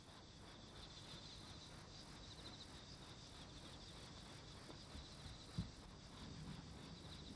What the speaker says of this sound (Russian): Кузнечик возвещает наступление осени жизнерадостным стрекотанием